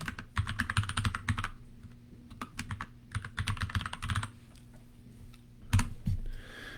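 Keyboard typing at a computer: bursts of quick close key clicks separated by short pauses, with a final brief flurry, no talking.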